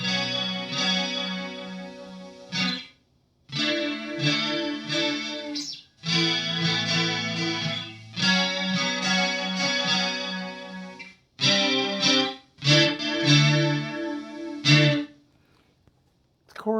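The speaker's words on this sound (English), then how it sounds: "let's see how the flanger sounds" Electric guitar played through a TC SCF chorus pedal set to flanger, sustained chords swirling with a sweeping, chorus-like shimmer, loud and up close, in phrases broken by brief pauses.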